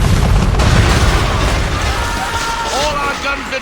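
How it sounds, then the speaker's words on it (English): Man-of-war cannon fire booms in the Assassin's Creed 3 naval battle, heavy low explosions rumbling loudly at the start and then fading under splashing and game noise. "We're under attack! Man-of-war's firing!"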